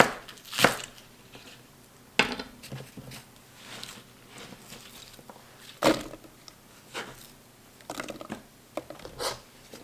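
Knife roughly chopping vegetables on a cutting board for homemade kimchi, a few sharp separate thuds spread irregularly, close and distinct over a quiet kitchen background.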